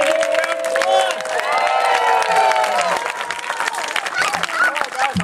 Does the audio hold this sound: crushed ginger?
no